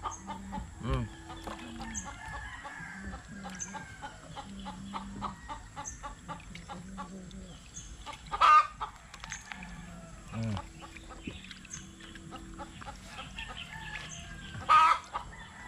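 Chickens cluck close by in a rural yard, with repeated short clucks, an occasional crow and a few louder squawks. Light ambient noise continues throughout.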